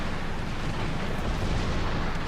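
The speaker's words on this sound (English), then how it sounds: "That hit my superstructure." A naval shell strikes a battleship's superstructure in World of Warships, producing a dense, rumbling explosive roar that holds steady and loud throughout.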